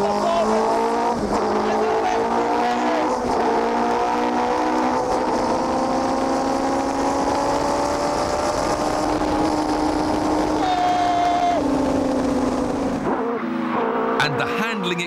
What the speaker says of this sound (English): if you floor the throttle, the performance is